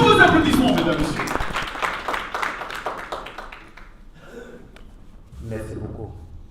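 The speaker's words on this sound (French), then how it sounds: "Mesdames et messieurs, j'aimerais qu'on applaudisse" An audience at a hip-hop project presentation ceremony claps loudly at first, then the applause fades and thins into scattered claps, and a voice speaks toward the end.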